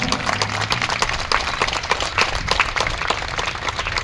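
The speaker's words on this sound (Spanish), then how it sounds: "El aplauso más fuerte," Crowd applause in honor of a patron saint's Virgin procession in the streets of Mercedes, a dense, steady wash of many hands clapping at close range for the whole stretch.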